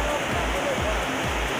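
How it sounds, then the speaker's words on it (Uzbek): Water pours steadily at Sangardak waterfall in the rain, a dense unbroken rushing wash heard up close with no break in the flow. "Suvni qarang qanday oqyapti."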